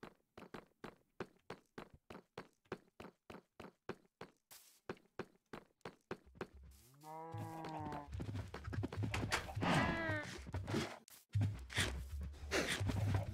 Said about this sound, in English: Go feed our cows again.